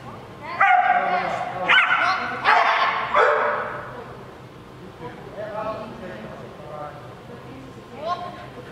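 A dog barks and yips in loud, sharp bursts during a training session, with several close barks early and fainter whimpering yelps later, while a trainer's voice speaks over and between them.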